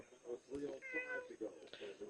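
A pet cat meows indoors, a couple of short nearby calls in a quiet room over faint background sound.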